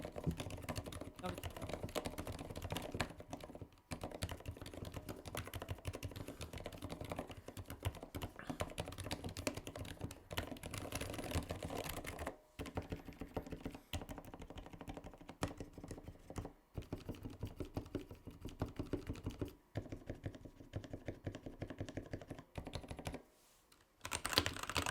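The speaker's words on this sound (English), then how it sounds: "let's drop a sound test, though, so you guys can hear what this keyboard sounds like." Keys on an NZXT hotswap mechanical keyboard clack rapidly and continuously in dense bursts of typing, with a few short pauses between runs.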